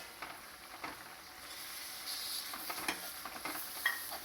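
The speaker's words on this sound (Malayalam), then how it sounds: "ഇനി നമുക്ക് തക്കാളി ഇട്ട് കൊടുക്കാം കേട്ടോ" Tomatoes added to hot oil for a pork and koorka curry, giving a steady soft sizzle with light scraping stirs throughout, close and moderately quiet.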